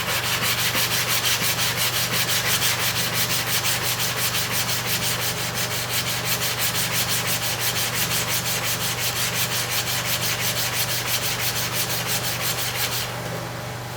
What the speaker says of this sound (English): You don't romance the blade on the stone. You need to add pressure.